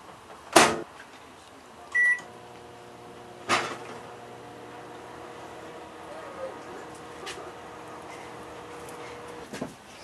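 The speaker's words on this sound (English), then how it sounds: "Now you microwave these yum chocolate chips" A microwave oven heating chocolate chips: a door clunk, keypad beeps, then a low steady hum of the running oven, with a few soft knocks and another click near the end.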